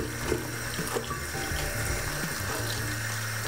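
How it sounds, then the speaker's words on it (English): Steady stream of water from a kitchen tap as bell peppers are washed at the sink, a continuous even rush with faint clatter, close by and with no talking. "The first thing you want to do is to wash the peppers well."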